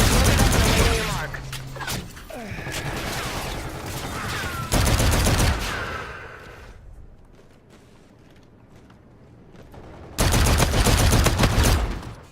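The R3KT gun firing in a Call of Duty match: loud bursts of rapid automatic fire come in three separate volleys, with mechanical clatter and game sounds in the quieter gaps between them.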